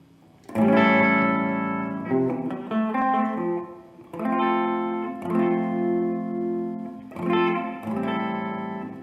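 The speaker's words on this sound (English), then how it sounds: "Brighten up the reverb a little up on tone" Guitar run through a T-Rex reverb pedal on the Hall setting with its tone turned up brighter: picked notes and chords ringing out alone, with a shimmering wash of reverb tail between phrases.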